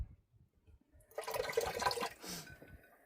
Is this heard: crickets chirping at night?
no